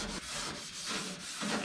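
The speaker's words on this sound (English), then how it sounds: "we're gonna go ahead and sand all this right here, sand all this inner rocker down" Hand sanding of the inner rocker panel on a 1957 Plymouth being scuffed for primer, a close, steady rasping rub in repeated strokes with no talking.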